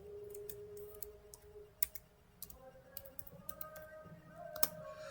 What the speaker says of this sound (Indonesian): Kita ketik perintah sudo apt